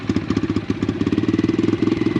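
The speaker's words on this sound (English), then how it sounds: "you gotta start the bike first" A motorcycle engine runs close by in the desert with a fast, steady, throbbing putter, loud and alone.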